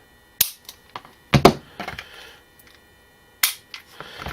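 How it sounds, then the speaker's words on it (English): The slide of a Springfield Armory XD40 or XD45 tactical pistol being racked, with sharp close metallic clacks and small clicks in a few quick clusters, separated by quiet gaps. "I will rack the slide, showing you that they are indeed safe."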